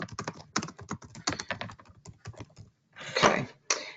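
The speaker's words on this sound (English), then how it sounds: "I'm just typing this up." Bursts of rapid clicking keystrokes on a computer keyboard, close and fairly loud, typed in irregular spurts with short pauses between runs and a denser flurry near the end.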